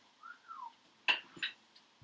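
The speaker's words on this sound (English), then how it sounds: "Can I stealthily whistle?" A person whistles quietly in a short, rising-then-falling tone at a tabletop role-playing game session, followed by a few soft clicks and taps nearby.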